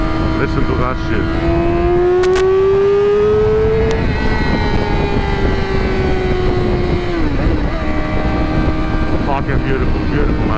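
Updated motorcycle engine revving loud and near, pitch rising to a peak then easing back down and holding, a continuous throaty drone from start to finish.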